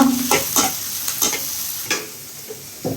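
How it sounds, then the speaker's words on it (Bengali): Onions frying lightly in a pan, with a soft sizzle under several sharp, close spatula stirring scrapes at an uneven rhythm; no talking. "পেঁয়াজটা একটু হালকা ভেজে নিব"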